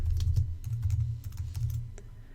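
Someone types a brush preset name on a computer keyboard, a quick, close run of light key clicks over a low hum, with no voices.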